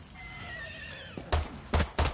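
A horse on fire in Far Cry 6 lets out a wavering whinny, then three loud, sharp bursts like hooves or impacts follow, close and distinct.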